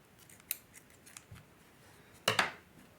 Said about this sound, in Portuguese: vou cortar o fio